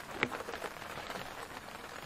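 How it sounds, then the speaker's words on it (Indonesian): Steady rain falls on an open fishing platform (bagan) off Tanjung Kait, a dense, even hiss of drops with one brief sharper splash near the start and no voices. "Oh, hujan bosku."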